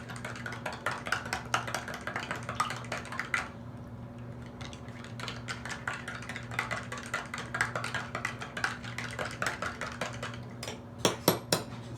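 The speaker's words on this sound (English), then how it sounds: "Stir a bunch of air in here." Maple syrup wine must stirred vigorously in a container to add air, a rapid run of clinking, scraping taps from a utensil against the vessel over a steady low hum, continuous and close with no talking.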